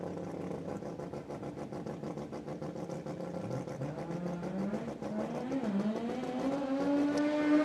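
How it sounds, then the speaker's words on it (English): A rotary-engined Mazda RX-7 race car screams past at high revs, a buzzy, steadily rising engine note heard loud and continuous, with no voices over it. "The RX-7 out of St. Cloud, Florida. On the right side, that rotary powered entry."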